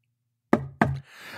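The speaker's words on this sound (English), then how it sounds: "I'm going to go mad listening to those knocks." Two sharp knocks on a window ring out in quick succession against near silence, followed by a faint hiss of atmosphere, part of a spoken horror story's sound effects.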